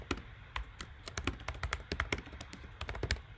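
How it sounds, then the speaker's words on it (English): Quiet, rapid keystrokes tap on a computer keyboard in an uneven rhythm, close by and alone. "You just click in here and you just start typing."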